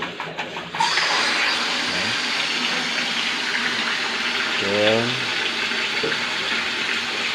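Water rushes steadily out of an opened pressure release valve on a swimming pool filter, a loud continuous gush with brief talk over it near the start.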